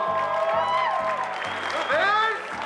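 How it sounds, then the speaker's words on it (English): Guests at a wedding reception at a JW Marriott applaud the couple's first dance; steady crowd clapping runs under loud music with a sung melody and a pulsing bass beat. "one more round of applause for that fantastic first dance"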